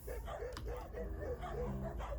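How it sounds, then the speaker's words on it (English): Dogs squabbling as one lower-ranking dog barks and whines up at a dominant dog, short yips and growly barks repeating across the clip under continuous talk. "you see the dog on the bottom is kind of barking at him."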